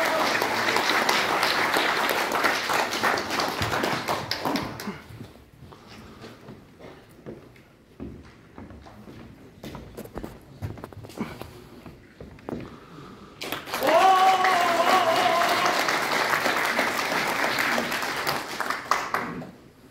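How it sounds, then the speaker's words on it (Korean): Audience applause at a National Assembly symposium on designating the Jungdo archaeological site, with a full round at first, then a quieter stretch with footsteps and shuffling, then a second strong burst of clapping. "뜨거운 박수로 모시겠습니다"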